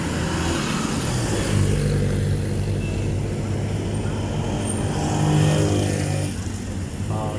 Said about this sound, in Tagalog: Tingnan nyo naman yung mga sasakyan guys.